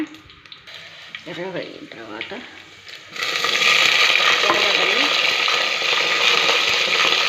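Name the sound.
garlic frying in oil for gongura curry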